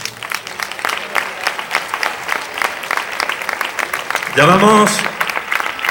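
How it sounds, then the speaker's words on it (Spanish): Sustained applause from a crowd at a youth pageant presentation, steady clapping throughout, with a voice speaking briefly in Spanish near the end over the clapping. "Fuerte aplauso."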